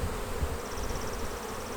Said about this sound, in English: When you start seeing bees, now look at them bees.